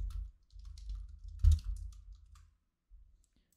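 Close keys clack on a computer keyboard during a stretch of typing, a busy run of soft clicks with one firmer tap, then a pause and a couple of final keystrokes, no talking.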